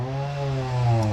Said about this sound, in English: I apologize for the chainsaw noise.